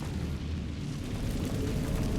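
Descendo spell from the video game Hogwarts Legacy, a dense, rumbling low-heavy impact wash that stays continuous and fairly loud throughout its short span, with no speech.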